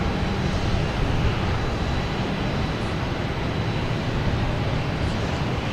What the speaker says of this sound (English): we have a JetBlue lining up on 4 right, heading to Seattle